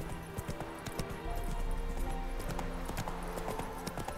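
Horse hooves clip-clop in a steady walking rhythm in The Witcher 3, fairly close and continuous over a low game background, with a brief neigh possible.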